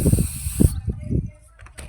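An aerosol spray paint can hisses onto the body of a Chevrolet Beat outdoors on a windy day, a sharp close burst lasting under a second while someone talks over it.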